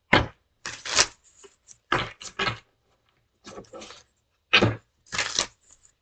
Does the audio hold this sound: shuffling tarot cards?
yes